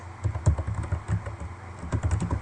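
Rapid typing on a computer keyboard during sales order data entry, with clustered clicky keystrokes in irregular bursts, close and moderately loud, no talking over it.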